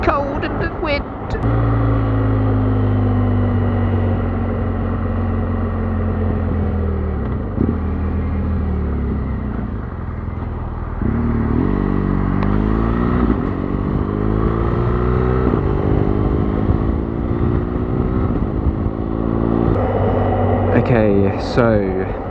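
A BMW R1200GS motorcycle drones steadily while riding on a cold, windy road, the engine note rising and falling through gear changes beneath heavy wind rush.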